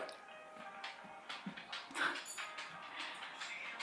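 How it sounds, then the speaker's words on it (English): A dog whimpers and yips softly indoors, several thin high whines in quiet succession as it moves about the room. "The dog just entered the room."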